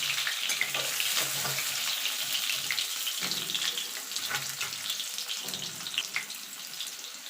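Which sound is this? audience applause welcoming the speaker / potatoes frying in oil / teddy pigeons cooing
potatoes frying in oil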